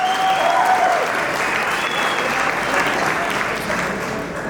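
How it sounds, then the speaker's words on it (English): An award ceremony audience gives a sustained round of applause, a dense, loud wash of clapping that holds steady and tapers slightly at the end, with faint crowd murmur beneath. "Give yourselves a round of applause."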